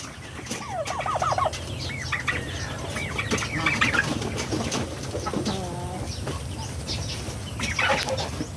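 Native chickens and a turkey call in a backyard pen, a busy overlapping chorus of clucks, crowing and a turkey's gobbling warble, close and continuous with several birds at once.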